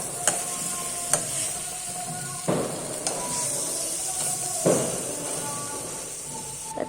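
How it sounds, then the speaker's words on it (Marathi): Bitter gourd sautéing with spices in a pan gives a steady close sizzle, broken by several sharp scraping stirs of a spatula spread through the clip, with no talking. "त्याच्यामध्ये छान त्याला परतून एकजीव करून घेऊ"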